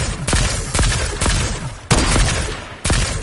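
Sniper rifle shots in a video game ring out as sharp, loud cracks, about five of them at irregular intervals, each followed by a short rumbling tail.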